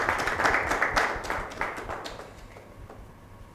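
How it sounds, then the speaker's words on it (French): Studio audience at a French talk show applauding while a guest picks a challenge, a dense wash of clapping that starts loud and gradually thins and fades out. "On applaudit en attendant qu'elle choisisse."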